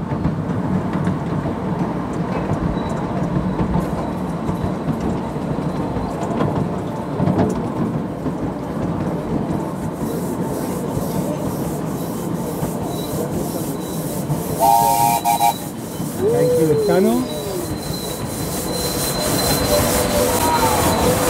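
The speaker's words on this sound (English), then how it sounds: "That it's a genuine steam train," Miniature steam train running on the Winelands Light Railway near Stellenbosch, a continuous rumbling chug of wheels over track with a few brief squeals and whistle-like tones partway through, heard without speech.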